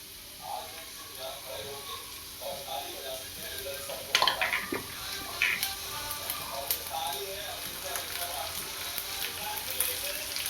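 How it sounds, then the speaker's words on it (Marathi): A black ground spice paste for Maharashtrian alu vadi curry sizzles softly as it hits hot oil, with scraping stirs and a low crackle under a speaking voice. "हे वाटण आता मी तेलामध्ये सोडलेलं आहे"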